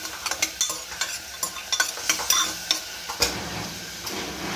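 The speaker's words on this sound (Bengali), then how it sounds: "মা এখানে রুই মাছটা ভাজছে" Rohu fish frying in a pan of oil at home, a steady close sizzle broken by repeated sharp scraping and clinking of a utensil turning the pieces, with no talking.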